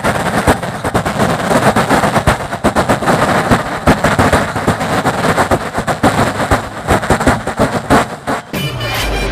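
A voice on a comedy stage imitates a long string of firecrackers going off, a loud, dense, rapid crackle of bursts rolling on for about nine seconds before cutting out.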